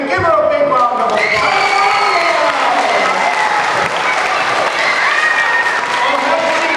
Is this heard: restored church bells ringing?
no